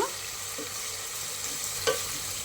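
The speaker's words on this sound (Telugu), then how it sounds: "ఇప్పుడు ఆనియన్స్ అయితే నేను వేపుకుంటున్నాను అనమాట" Onions fry in a pan for egg biryani, giving a steady even sizzle at modest volume, broken by a couple of brief utensil taps.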